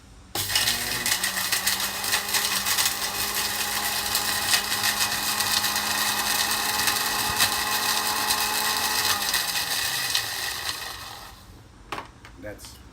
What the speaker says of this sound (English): I am now going to grind it. Just make it into a dry grind, into a powder